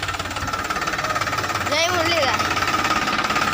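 A village farm tractor's engine runs with a steady, rapid thumping chug at close range while someone briefly speaks over it.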